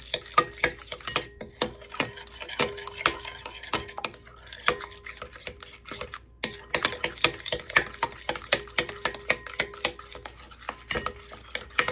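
A tablespoon of powdered sugar is stirred into pancake batter in a bowl, with a utensil clinking and scraping against the sides in a quick, busy rhythm, close up and with no talking.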